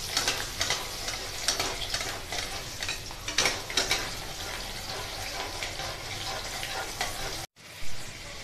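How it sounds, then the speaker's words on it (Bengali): Kabuli chickpeas frying in oil while being stirred, a moderate bubbling sizzle with scraping stir strokes and occasional louder pops, broken by a brief silent cut near the end. "একটু নেড়ে নেড়ে ভাজতে হবে"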